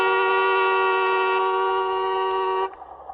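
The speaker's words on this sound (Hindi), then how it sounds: "अरे देख क्या रहे हो, हॉर्न बजाओ ना।" A car horn blares in one long, loud, steady honk lasting nearly three seconds, then cuts off abruptly, leaving faint background noise.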